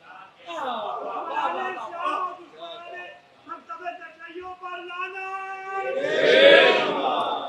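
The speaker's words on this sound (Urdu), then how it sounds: "صرف زبان سے لعنت کے نعرے نہ ادا کیا کیجیے" A crowd at a religious majlis gathering chants curse slogans in unison, loud rising and falling voices in rhythmic calls, with a louder swell of massed shouting near the end.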